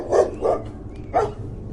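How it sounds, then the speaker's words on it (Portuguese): A dog barks three times in quick, close, loud woofs, the first two back to back and the third after a short pause, over a low background rumble. "fui acordado pelo latido de um cachorro"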